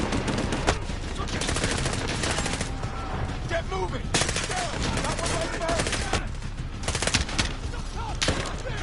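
Sustained gunfire in the Modern Warfare campaign on PS4 Pro: dense, rapid bursts of automatic weapon fire crack repeatedly across the whole stretch, loud and close, with scattered combat noise between volleys.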